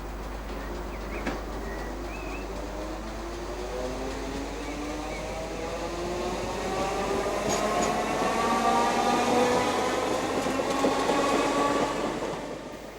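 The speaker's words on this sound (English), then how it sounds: "Another of the Class 315s enters Edmonton Green Station" A Class 315 electric multiple unit pulls into Edmonton Green Station, a steady rolling rumble with rising traction-motor whine that grows louder as it arrives, with no talking.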